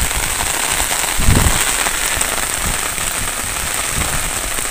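Rain pours down in an open place, a dense and steady hiss of drops close by with a brief heavier patter near the middle and no break throughout.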